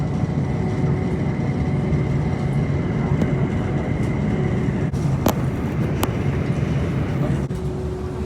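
A Bangkok airport rail link train heading to Suvarnabhumi Airport runs steadily, a constant loud rumble with rail clatter and a few sharp clicks as it drops underground into a tunnel; no talk.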